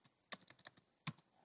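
Faint, close computer keyboard typing, a few quick irregular keystrokes with one sharper tap near the end, entering pandas code in a data selection tutorial.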